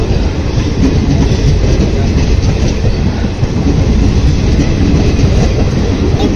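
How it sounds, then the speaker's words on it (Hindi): Two trains moving at once past a railway station platform, a loud, close, continuous rumble of wheels with steady clickety-clack and no talk over it. "To trains are moving at the same time at the same platform."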